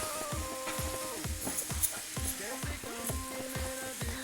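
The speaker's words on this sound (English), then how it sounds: "Let the ginger and garlic paste just cook off a little bit" Ginger and garlic paste sizzles in a hot pan for a curry while a utensil scrapes and stirs it in a steady repeating rhythm, close and fairly quiet, with no voices.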